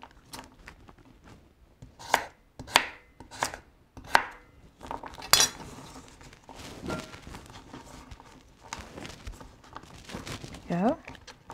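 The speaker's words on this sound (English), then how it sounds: "you want different textures of cutting the vegetable in your" Knife chopping vegetables on a cutting board in a home vegetarian kitchen, sharp irregular thuds in short bursts with pauses, a voice talking between the cuts.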